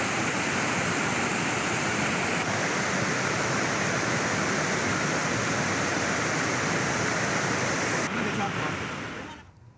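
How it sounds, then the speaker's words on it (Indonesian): Strong flash-flood current in Gunung Kidul carrying wood and mud, a steady dense rushing roar of water throughout, fading out at the very end. "Arus deras membawa material kayu dan lumpur."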